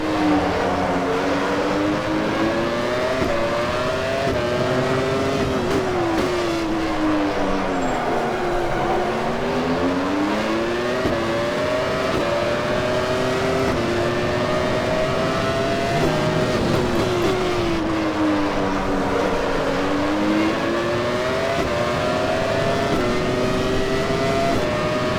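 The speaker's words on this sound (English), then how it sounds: "We've got a battle for 2 cars coming up behind us." Formula One cars from the 1996 season roar around Interlagos in a racing simulation, a loud continuous engine whine rising and falling with gear changes as several cars run close together and pass, no talking.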